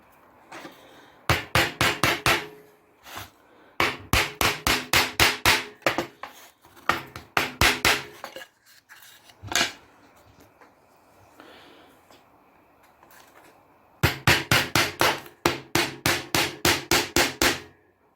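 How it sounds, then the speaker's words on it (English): Panel pins are hammered into wood in quick bursts of sharp, evenly spaced taps, several runs of rapid blows separated by short pauses, loud and close with nothing else over them. "just going to put some panel pins in."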